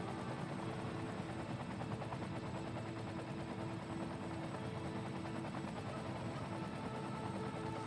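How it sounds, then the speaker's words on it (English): A disaster response helicopter in the city-building game Cities: Skylines hovers over a snow dump, its dense rotor and engine noise a steady, faint, unbroken drone throughout with no voices. "it looks like we are landing over here with our disaster response helicopter to search this snow dump for"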